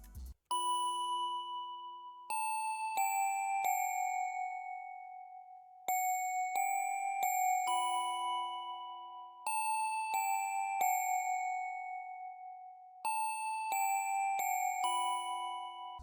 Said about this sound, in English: Next we're back on the expand for a bell. This is the wavetable bells 1.